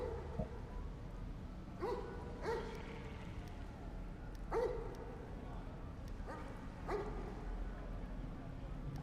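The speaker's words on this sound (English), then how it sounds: "I hear the dog woofing." A dog in a game's forest grove gives four or five deep woofs, spaced a second or two apart, moderately near, over a low ambient hum.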